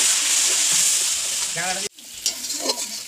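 Chili powder and turmeric hiss loudly in a hot pan, and a bright, steady sizzle gives way to a sharp cut and softer bubbling after a splash of water goes in, with a faint stir or two.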